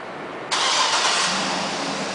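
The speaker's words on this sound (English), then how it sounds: "which is a remote start" A 2007 GMC Yukon Denali engine fires up by remote start with a sudden loud crank and catch about half a second in. It then settles into a steady, fairly close idle rumble.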